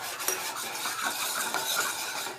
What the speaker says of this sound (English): We're just going to let those berries heat and let that sauce simmer a little bit.